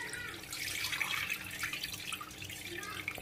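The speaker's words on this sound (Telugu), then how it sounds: "ఈ బియ్యము నీళ్ళు వచ్చేస్తున్నా, 3-4 సార్లు గడగండి" Tap water runs steadily as soaked rice is rinsed in a sink for pumpkin dosa batter. The splashing and trickling is close and continuous, with no talk over it.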